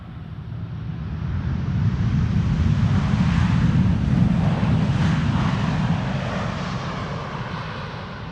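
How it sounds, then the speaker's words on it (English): A KLM Boeing 787-10 airliner arriving at Schiphol from New York, its engine roar swelling as it passes and then slowly fading, loud and steady with some wind rumble. "KLM Flight 644, arriving from New York, 787-10."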